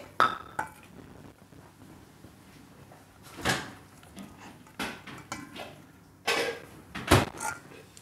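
Eggs, sugar and flour batter stirred in a bowl, with scattered clinks and scrapes of utensil against the bowl and a few louder knocks, fairly close and intermittent.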